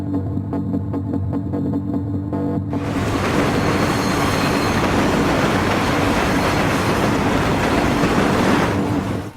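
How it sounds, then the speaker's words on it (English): A long train in the Battlefield 3 video game rolls through a tunnel, a steady loud rumble with rhythmic clickety-clack of wheels that swells after the first few seconds and holds close and continuous. "But for sure I know that this train is quite long."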